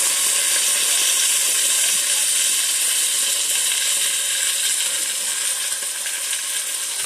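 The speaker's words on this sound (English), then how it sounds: "We're just going to make sure that all the meat is cooked flat down so it can cook on each side." Beef cubes sear in a pan for a hearty stew, giving a constant, bright, close sizzling hiss with no pauses, heard on its own without talk.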